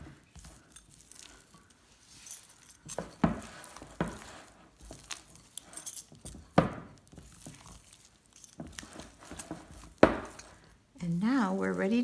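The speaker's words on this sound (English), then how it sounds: "we'll stir those both in until they're fully combined" A spoon works vanilla into a thick homemade fudge mixture in a bowl, with scattered scrapes and knocks at close range and a voice briefly heard near the end.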